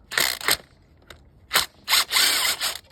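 Ratchet wrench working loose the valve cover bolts on a 2020 Hyundai Veloster N during a timing chain job, a few loud, close clicking bursts separated by short pauses.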